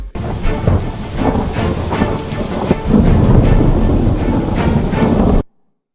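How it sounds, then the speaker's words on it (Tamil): Heavy rain pours loudly during a storm in Tamil Nadu, a dense roar of water with deep rumbling thunder underneath, building slightly halfway through before cutting off abruptly. "தமிழ்நாட்டின் பல்வேறு பகுதிகளில் பரவலாக மழை பெய்தது."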